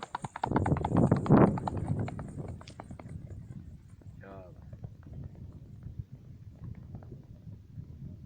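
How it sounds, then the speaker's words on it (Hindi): A chestnut horse in Sindh moves at a rewal gait, its hooves clip-clopping in a quick, steady rhythm that is loudest at first and then fades a little, while people talk over it. "कुमैत घोड़ो आहे माशाल्लाह"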